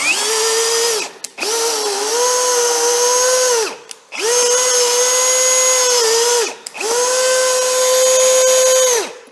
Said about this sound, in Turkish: İkinci vitesi alıyorum.